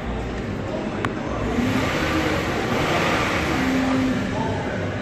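A 2011 Hyundai Azera V6 car engine runs nearby with a steady low rumble and a mild rev, while faint voices murmur in the background.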